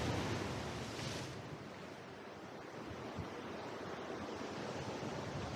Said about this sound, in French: Regardez un peu, il y a un peu de mer aujourd'hui.